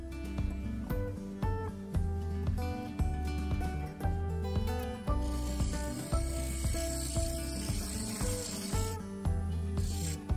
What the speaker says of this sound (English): So I continued to cut half a dozen or so beads.